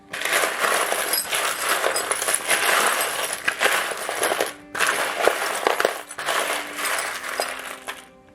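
Small charms shuffled by hand, a continuous clinking and rattling jumble, loud and close, with a brief pause midway before the shuffling resumes.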